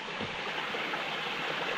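A waterfall and stream in Thai forest hills near Pattaya rush steadily and loudly as a dense, unbroken wash of water with no talking.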